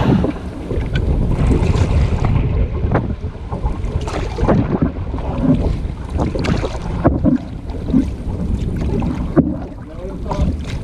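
Strong wind buffeting the microphone while canoeing on the Delaware River in the Delaware Water Gap, a loud continuous rumble with water sloshing against the canoe.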